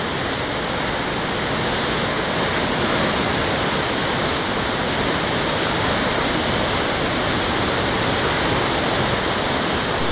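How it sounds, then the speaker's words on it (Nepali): The Bagmati river surges through the narrow Chobhar gorge in Kathmandu, a loud, continuous roaring rush of water that fills the whole scene without pause. "यो चोभारको गल्छीमा बागमती पानी उर्लिएको छ।"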